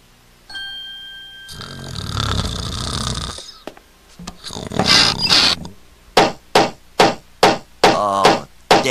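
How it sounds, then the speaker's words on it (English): Repeated hammer blows in a cartoon setting, a run of about six sharp, loud knocks at a steady rhythm near the end, following a stretch of busy noise and talk-like sounds. "Oh, damn it, stop hammering."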